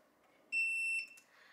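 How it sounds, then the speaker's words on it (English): TD183 paging system pager gives a single steady electronic beep lasting about half a second, clear and close against a quiet room. "You can see that there is a beep from the pagers."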